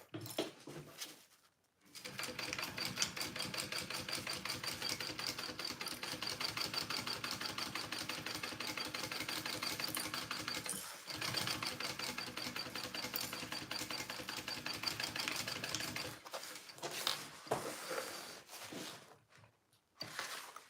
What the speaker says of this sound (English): Gonna sew that together first.